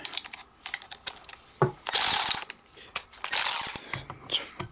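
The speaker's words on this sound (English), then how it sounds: "get my auto ratchet." A power ratchet loosens 27 and 30 mm bolts on a failed Tesla air suspension compressor outdoors, giving two sustained loud whirring-clicking bursts amid scattered clicks and clanks of tools and parts.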